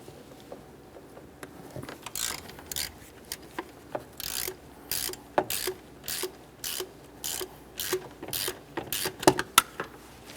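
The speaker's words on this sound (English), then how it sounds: "we'll continue using a 15mm on the mounting bolt" A 15mm ratchet works the idler pulley mounting bolt loose on a 2001-2005 Ford Explorer Sport Trac, with rapid rhythmic clicking bursts that grow steadier and louder as it keeps turning, close up and without talk.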